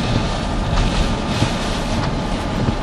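Strong hurricane wind roars steadily into the microphone, a dense continuous rumble with gusting buffets and no voices.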